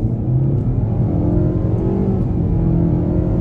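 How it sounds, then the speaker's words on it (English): A 2023 Nissan Altima SR accelerating hard out of a sharp turn on a road, heard from inside as a loud, steady engine drone and whir that holds and builds slightly throughout, with no talking. "We'll throw it in a lot quicker than we should in a sharp turn. Really test out the handling on the gas."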